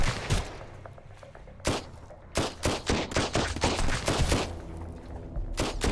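Machine gun fire in the survival video game Sunkenland during a police station raid, with rapid bursts of loud gunshots clustered together and short pauses between volleys.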